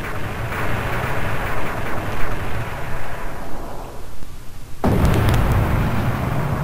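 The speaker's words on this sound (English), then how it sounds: "Well, that was a big explosion." A big explosion in the arcade game Gaiapolis: a loud sustained roaring rumble that swells, dips, then bursts back in with a sharp crack and renewed roar.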